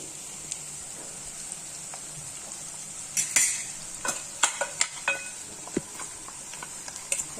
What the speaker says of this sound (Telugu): పొడిని అంతటిని వేసుకొని ఒకసారి బాగా కలుపుకోవాలి.